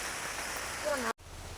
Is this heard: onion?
no